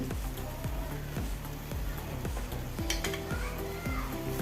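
Vegetable noodles are stirred and tossed in a pan on a gas stove at full flame, with a steady, rhythmic scrape and clatter of the utensil against the metal under a soft sizzle, heard up close.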